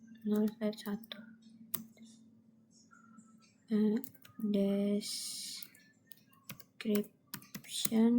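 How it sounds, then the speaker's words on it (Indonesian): Keys clack on a computer keyboard in quick bursts while configuring a router interface, close and crisp, with short pauses between runs of typing and a voice speaking between and over them. "Lalu kita akan mengkonfigurasi interface router. Kita ketik interface 0/1"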